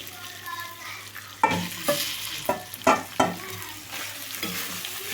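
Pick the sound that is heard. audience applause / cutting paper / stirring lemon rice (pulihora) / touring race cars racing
stirring lemon rice (pulihora)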